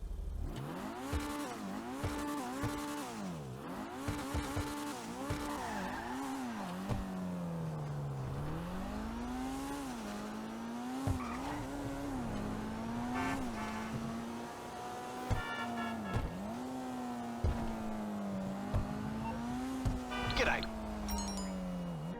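A Maibatsu Penumbra FF car engine in GTA Online revs up and down repeatedly, its pitch rising and falling in sweeps, with occasional tire squeals and sharp clicks over a steady motor drone.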